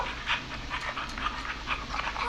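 Max, a rescue dog in the Killer Frequency video game, panting rapidly and rhythmically close by, with quick breathy huffs throughout and no talking.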